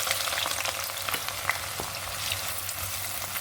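Onions sizzle in hot oil in a pan with cardamom and cloves while cooking chicken biryani, a steady close hiss of frying with occasional stirring scrapes and small pops.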